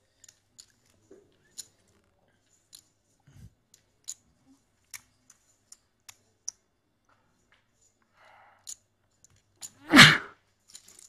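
A single loud sneeze bursts out near a poker table during a high-stakes casino tournament broadcast, preceded by scattered light clicks of chips being handled.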